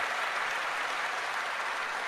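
A crowd applauds steadily, with dense, even clapping that stays at a constant level throughout and no voices standing out.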